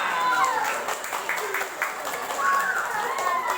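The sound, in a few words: audience applause at a religious gathering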